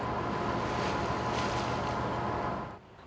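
Motor launches on the water of Odessa bay during a Ukrainian Navy anniversary ceremony: a steady, loud broadband rush of engine and water with wind, easing off near the end, with no talk.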